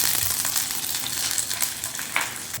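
Hot oil spluttering and sizzling steadily in a pan of fish curry, a dense close crackle with scattered sharper pops and no voices.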